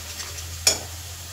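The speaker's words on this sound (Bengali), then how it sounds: "তো সব একসাথে খুব ভালো করে কষাতে হবে আমাকে, যতক্ষণ না মশলা থেকে তেল ছাড়ে" Spice masala fries in a pan for an Indian dhaba-style egg tarka, with a soft background hiss and a single sharp scrape as it is stirred.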